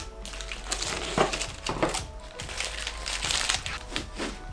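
Masking tape peeled off homemade GTR-style tail lights for an Infiniti G37 sedan, a series of crackling, crinkling tears at close range with short bursts and pauses, no talking.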